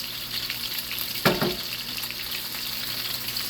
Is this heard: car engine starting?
no